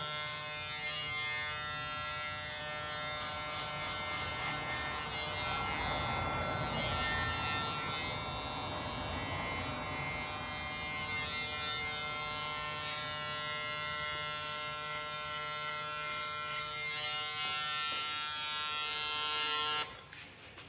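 Electric hair clippers buzz steadily at close range throughout a fade haircut, a continuous motor hum that shifts slightly as the blades move through the hair, cutting off at the end.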